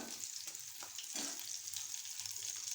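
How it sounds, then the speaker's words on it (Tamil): Two pieces of fish fry in hot oil with a steady, close crackling sizzle that holds constant, with small spatter pops and no talking. "இப்போ நான் வீடியோக்க மட்டும் ஒரு 2 பீஸ் மீன் வந்து பொரிச்சிக்கிட்டு இருக்கேன்."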